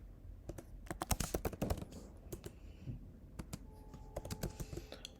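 Rapid typing on a computer keyboard during a coding session, with crisp close-up key clicks in quick bursts and short pauses between them, no voices.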